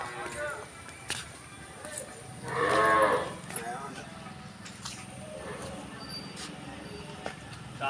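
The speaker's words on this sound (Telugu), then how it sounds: "సో ఇక్కడ అన్ని ఆవులు అవి ఉంటాయి." Cows at a temple cow shelter, one loud moo rising briefly over steady outdoor background noise, with faint activity around it.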